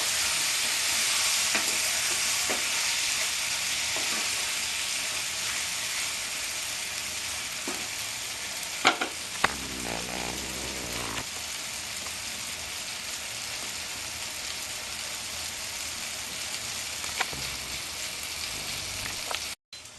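Boneless chicken curry sautéing in a pan, Bengali style, with a steady broadband sizzle running throughout, a few sharp utensil clicks and scrapes, and a brief low rumble near the middle before the sizzle cuts off at the end.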